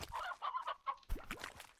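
A chicken in the Slime Rancher video game clucks in a quick run of short, close, clear calls, with no one talking over it.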